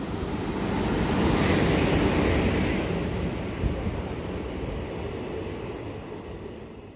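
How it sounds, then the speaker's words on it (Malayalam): A heavy, continuous rumble of a train rolling into a station, swelling early and holding steady with a broad roar and no voices. "ഇപ്പം നമ്മുടെ ട്രെയിൻ വരുന്നുണ്ട്"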